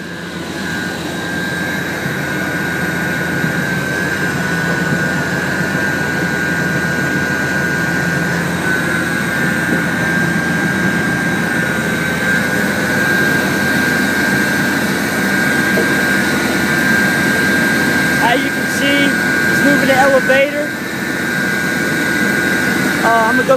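A John Deere 3520 sugarcane harvester runs with its elevator turning, giving a loud, steady machine drone with a high whine throughout, while a person talks over it.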